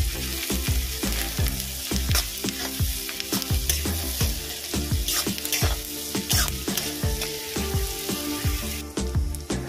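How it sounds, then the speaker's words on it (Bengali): Chopped onions with salt fry in oil, a constant crackling sizzle broken by rhythmic scraping strokes of a spatula against the pan, close and busy throughout. "পেঁয়াজটা হালকা করে ভাজা হয়ে গেছে।"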